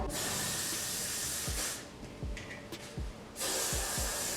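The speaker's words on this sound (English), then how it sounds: "you can spray some Got2b on it" Two long bursts of Got2b hairspray hiss onto hair, close by, separated by a short pause with a few soft thumps in between.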